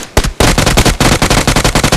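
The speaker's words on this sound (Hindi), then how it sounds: "और यहाँ पे कौन फायरिंग करने लगता है" A brief pause, then loud, rapid automatic gunfire bursts in BGMI, a dense rattling string of shots that fills the remaining two seconds, close and forceful, with no talking.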